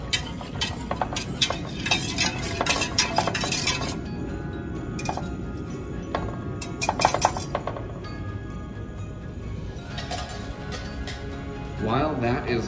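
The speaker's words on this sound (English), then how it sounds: "We want to stir this up and warm it up." Spoon clinking against a pot while stirring an eggnog mixture on the stove, repeated light metallic taps and scrapes with kitchen clatter, up close, partly under a speaking voice.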